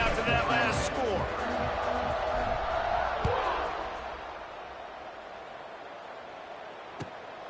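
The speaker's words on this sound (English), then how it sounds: "this crowd is buzzing after that last score" A stadium crowd buzzes at a college football game in NCAA CFB 26, Louisville vs South Carolina: a dense, loud roar that eases to a lower steady murmur partway through, with a couple of brief thumps.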